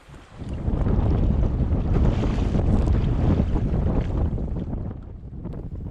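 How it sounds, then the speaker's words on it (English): Steady roaring headwind and choppy waves buffeting a canoe on the Brightsand-Kopka River, a loud continuous rush with wind noise on the microphone and no voices. "back into slogging against this headwind and waves, of course"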